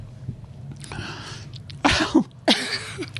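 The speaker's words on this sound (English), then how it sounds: "And the guest is coughing." A podcast guest coughs near the microphone in a quiet room, a few sharp, separate bursts spaced about half a second apart, with faint rustling between them.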